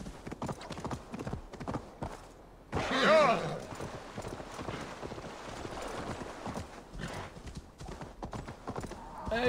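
A horse ridden in Assassin's Creed Valhalla clip-clops along in a steady, close hoof rhythm, briefly masked by a louder rushing burst before the hoofbeats carry on to the end.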